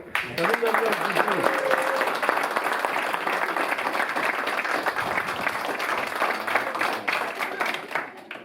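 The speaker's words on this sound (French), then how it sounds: "une dernière fois, on applaudit" An audience at an art exhibition event claps in a full round of applause, with voices talking and calling out over it.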